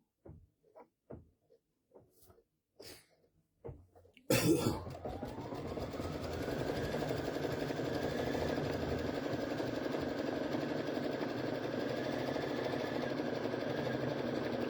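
A Baby Lock embroidery machine stitching an appliqué in the hoop: after a few quiet knocks and taps, the machine starts abruptly and runs as a steady, close mechanical hum with a fast, even stitching rattle.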